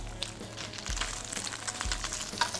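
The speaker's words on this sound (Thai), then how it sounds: "ปลาทูของเราต้องถูกผัดกับน้ำมันให้เขา เหลืองหอมหน่อยนะครับ" Mackerel sizzles steadily in oil in a pan, with soft crackles and a couple of low thumps of cookware, no talking.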